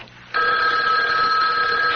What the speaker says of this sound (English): Answer it. Answer it. I don't want him to think we've been sitting right on the phone.